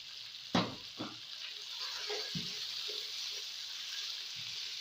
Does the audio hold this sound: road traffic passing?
no